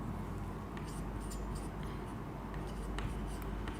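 Pen writing coordinate geometry notes on paper: faint, steady scratching strokes with short scribbles over a constant low hiss, no voices.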